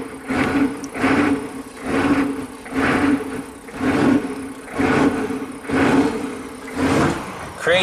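A Chevy 6.5 turbo diesel engine with a throttle fault surges and revs out of control, rising and falling in steady waves about once a second. It is loud and close, with no one talking.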